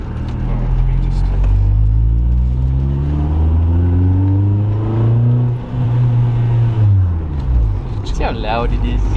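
A loud BMW E30 engine revving hard through a throaty exhaust, pitch climbing and falling in long sweeps, with a few crackling pops near the end.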